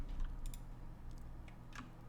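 Computer keyboard typing in short bursts of clicks over a steady low hum, close and fairly quiet, no voices.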